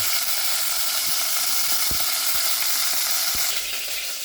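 Sirloin steak from a UK supermarket sears loudly in a hot pan, a steady dense sizzle with a few sharp crackles and pops near the end, and no voices.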